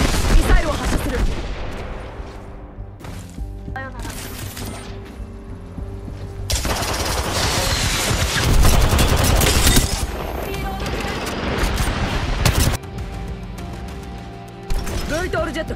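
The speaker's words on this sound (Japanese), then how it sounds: "ミサイルを発射する。" Valkyrie's missile barrage fires in the video game Apex Legends, a loud, dense volley of rapid launches and crashing blasts that swells and drops over several seconds, with game voice lines heard alongside.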